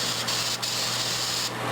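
Spray can of black enamel primer hissing steadily over a model Marder III tank destroyer kit, a continuous close airy spray with brief breaks, no talking.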